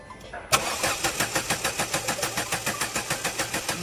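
Ford EcoSport engine cranking on the starter without catching: an even, rapid chugging pulse of roughly five beats a second that begins abruptly and continues steadily, close and loud.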